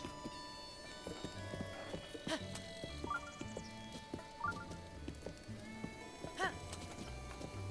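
Horse hooves clip-clopping in The Legend of Zelda: Breath of the Wild, soft irregular hoofbeats with a few short whinny-like calls, quiet and fairly close.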